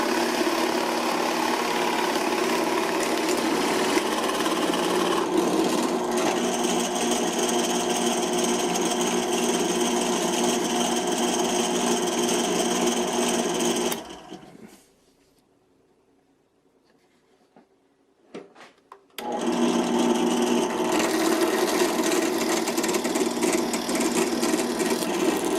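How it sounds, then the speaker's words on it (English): A power drill bores into wood with a 1 1/4 inch Forstner bit for a birdhouse entrance hole, a loud steady motor whir with cutting noise, pausing into near silence midway before resuming. "drilled the opening for the bird here with a 1 1/4 inch Forstner bit"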